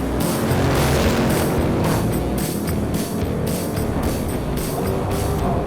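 A Dodge Durango Hellcat, Lamborghini Urus and Jeep Trackhawk launch together in a drag race, their engines producing a loud, sustained roar with pulsing surges, close and unbroken.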